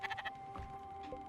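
Sheep in the video game Spiritfarer bleat several times in quick succession, close and clear over a faint steady tonal game background.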